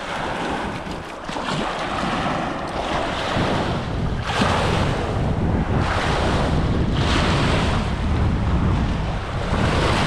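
Waves wash against a reservoir shore during fishing, surging in repeated swells beneath heavy wind buffeting the microphone, with no voices.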